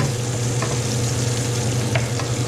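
Onions sautéing in hot oil in a pan: a dense, even sizzle with a low steady hum beneath and a few faint crackles, close up and continuous with no talking.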